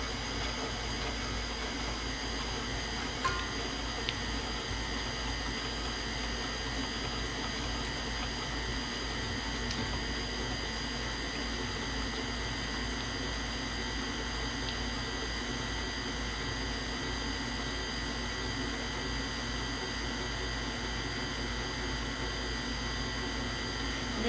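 An electric mixer whirs steadily, blending condensed milk for banana pudding with a constant, even motor hum at moderate volume and no break.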